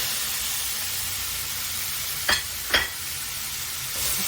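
Marinated shredded pork and garlic stir-frying in a hot wok, a loud steady sizzle with two sharp scraping stirs of the spatula partway through, and no talking.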